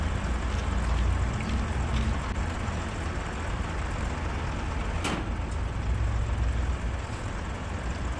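Continuous low rumble of vehicles passing and idling nearby on a street around an outdoor mechanic's workspace, steady and fairly loud, with a brief sharp click partway through and no talk.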